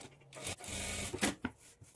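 Brief, steady machine whirr of a sewing machine topstitching the folded-in lining of a high-neck blouse, close and fairly loud, then ending in a few light clicks and rustles.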